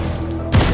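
A shotgun blast in a first-person video game, a single loud, booming shot near the end after a quieter stretch of game ambience.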